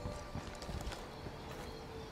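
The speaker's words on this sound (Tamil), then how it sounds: "குதிரை வர வச்சு குதிரையில் ஏறி" Horse hooves clopping in Ghost Recon Wildlands, a steady run of soft, fairly quiet hoofbeats over constant ambient game noise, with no one talking.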